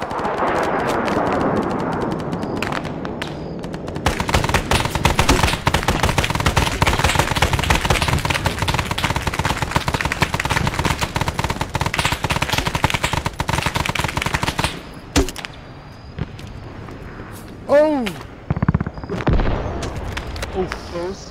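Sustained automatic gunfire in the video game ArmA, dense rapid bursts rattling loudly for most of the stretch before thinning to scattered shots, with voices shouting over the battle.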